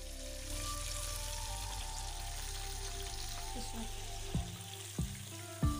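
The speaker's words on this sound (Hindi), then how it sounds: "इसी तरीके से मैंने सारे जो चिकन के पीसेस हैं उनको फ्राई कर लेना है" Chicken pieces deep frying in oil in a deep kadai, a steady close sizzle running throughout, with a few sharp clinks of a utensil near the end.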